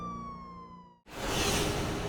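A police car siren wails steadily in the first half, then cuts to a loud broadband rush, as if the vehicle drives off at night, with no voices.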